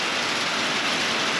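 Heavy rain of big, fat drops pours in a dense, constant hiss, loud and close, like big drops drumming hard on a surface.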